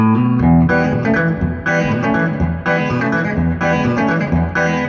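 A custom Fender Telecaster with Dynasonic pickups and an early JV Japanese neck rings out clean and twangy through a 1981 Fender Pro Reverb amp, strumming chords in short phrases with brief gaps between them, close and loud.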